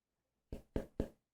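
Three quick, crisp taps on a hard acrylic collectible ticket from an Apple and Zenless Zone Zero collaboration set, struck close up in an otherwise quiet room, each tap a sharp click with a short ring.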